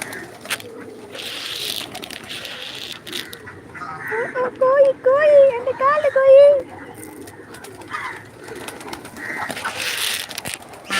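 Several pigeon coos sound close by in a short cluster, with people talking quietly before and after.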